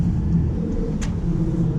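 A 2017 Audi A3 Quattro with S-tronic DSG gearbox pulls out of a junction, a steady low engine rumble heard from inside the cabin with a brief sharper sound near the middle.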